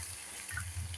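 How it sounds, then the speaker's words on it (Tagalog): Water is poured into a cooking pot while making suam na mais, a Filipino corn soup, giving a faint, steady gushing splash that continues throughout the second with no talk over it. "Lagyan na natin ng tubig."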